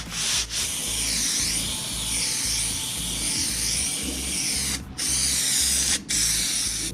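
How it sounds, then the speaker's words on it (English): Spray glue fans out of a nozzle onto vinyl leatherette for a lightweight bulkhead wall in an Iveco Daily campervan, giving a loud, steady close-up hiss that is broken by two brief pauses near the end. "And the nozzle on this glue does fan it out of it, so it does spread quite well."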